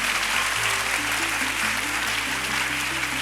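Dense, steady applause from a church panel audience fills the whole stretch, with sustained keyboard or organ tones playing underneath.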